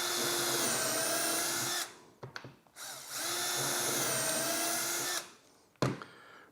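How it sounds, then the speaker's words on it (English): A power drill pre-drills holes through a drawer jig for a Lineabox drawer system, whining steadily in two long close bursts of about two seconds each, separated by brief clatter and handling noise. "Now all I have to do is pre-drill my holes."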